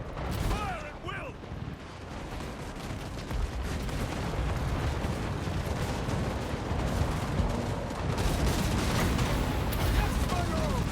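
Empire troops in Total War Warhammer 2 fire guns in a dense, continuous battle din of rumbling volleys and crackling shots, with a voice briefly heard near the start.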